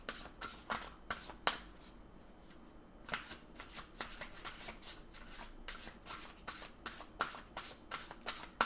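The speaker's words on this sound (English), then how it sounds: "I'm also going to pull a card from the Soul Helper Oracle" Oracle cards being shuffled by hand nearby, quiet papery riffles and flicks in uneven bursts with a short pause partway through, and no talking.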